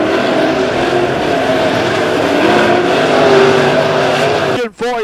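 Midwest Mods race cars roar around the dirt oval at Lebanon Midway Speedway during heat races, a loud sustained engine howl with rising and falling pitch as cars pass, cut off abruptly near the end.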